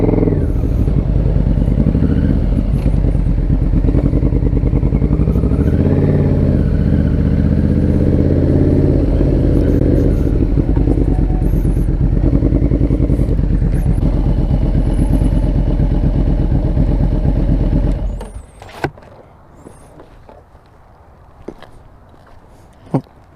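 A 1989 Yamaha V-Max 1200 motorcycle engine runs loud and close for nearly twenty seconds, rumbling and revving, then cuts off abruptly. Faint clicks and a few light knocks follow in the quiet.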